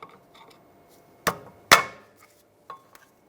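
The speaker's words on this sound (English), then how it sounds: "Take this pad off. I'm just using a pry bar because this one's stuck on there pretty good" A pry bar working a stuck rear brake pad off a 2006-2009 Mercedes-Benz E350: two sharp metallic knocks close together, then a lighter clink, in a quiet garage.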